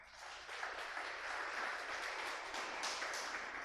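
A church congregation applauds during a sermon, a fairly faint but continuous patter of many hands clapping that rises in the first half second and carries on evenly for a few seconds.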